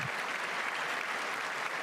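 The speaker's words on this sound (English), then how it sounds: "wasn't sure if anybody even on this side was going to applaud for that" Applause fills a legislature chamber, a steady dense wash of clapping hands that holds evenly throughout the short stretch without any voices over it.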